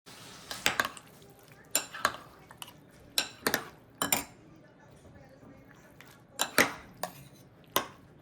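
A spoon stirs mango strawberry sago dessert in a bowl, making a series of close, sharp clinks and scrapes against the dish in irregular bursts with brief pauses between them.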